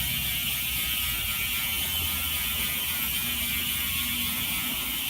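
A Bafang electric bicycle motor and drivetrain run while pedaling, with a continuous whirring, ratcheting mechanical rattle and hum that stays steady and close throughout, without talk.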